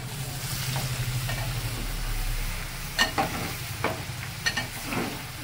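Spices temper in hot oil for tomato chutney, with a soft sizzle under stirring and a few sharp clinks and scrapes of a utensil against the pan.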